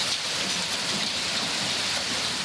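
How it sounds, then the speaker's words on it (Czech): Hail batters the village of Komárov during a storm, a dense continuous roar of ice pellets striking surfaces close by, with no voices. "Kroupy jsou všude."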